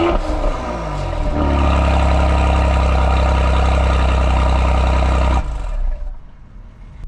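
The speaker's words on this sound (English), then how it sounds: "This is powered by a 3-liter twin-turbo V6, producing 385 horsepower and 384 pound-feet of torque" A 2018 Mercedes-AMG GLE 43 4matic with a 3-liter twin-turbo V6 accelerates hard, a loud, steady engine roar rising from inside the cabin before it cuts off abruptly and fades toward the end.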